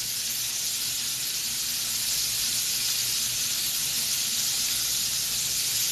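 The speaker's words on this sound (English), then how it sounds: "I'm going to turn the chicken." Chicken sears in a hot pan with a loud, constant high sizzle and hiss that holds steady throughout without a break.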